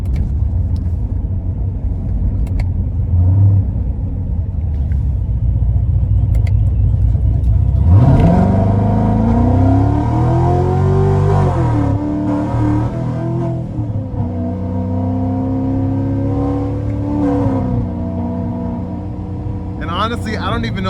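Procharged 2016 Corvette Z51 3LT, about 850 hp, revs up loudly from a rolling start, a heavy engine rumble with rising then falling pitch sweeps that dominates the cabin under occasional talk.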